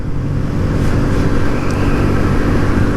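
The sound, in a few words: Kawasaki Z125 motorcycle engine riding around 6,000 RPM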